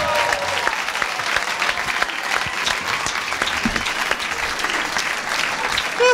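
Audience at a live comedy show in Zurich breaks into sustained, dense applause with some cheering from the crowd, loud and continuous throughout.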